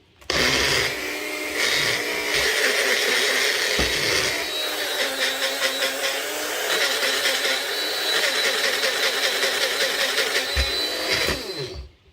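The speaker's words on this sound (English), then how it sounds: "all you do is process it and grind it up, and you will have powdered sugar" A blender grinds granulated sugar into powdered sugar, a loud, steady whirring roar that runs unbroken for about eleven seconds and then cuts off.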